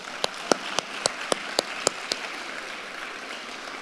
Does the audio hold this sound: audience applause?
yes